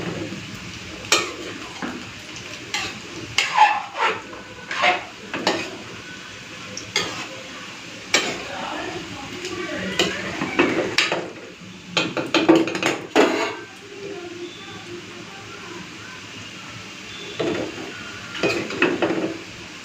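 A spoon scrapes and taps against a pot and plate while khichuri, a rice and lentil dish, is served in a home kitchen. The clinks come in irregular bursts, close and fairly loud, with quiet gaps between them.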